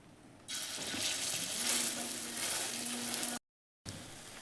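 A raw potato snack sizzles and fries on a griddle, a steady loud hiss that starts abruptly as it hits the hot surface and carries on close up, briefly cut off near the end.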